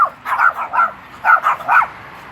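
A small dog yaps in quick bursts of high, sharp barks, loud and close, with brief pauses between groups, as another dog stands guard.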